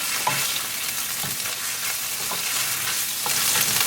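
Ginger, garlic and green chili paste frying with cumin seeds in a pan gives a steady, close sizzle, broken every second or so by soft scraping stirs.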